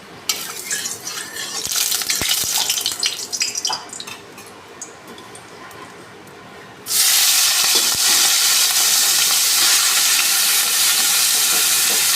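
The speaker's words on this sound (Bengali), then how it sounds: "কড়াই বসিয়ে দিয়েছি কড়াই গরমও হয়ে গেছে এবার মাছটাকে একটু হালকা করে ভেজে নেব" Shrimp rubbed with salt and turmeric frying in a hot wok, at first irregular crackles and scraping stirs, then a sudden loud, steady hissing sizzle once the shrimp meets the oil, close and with no talk.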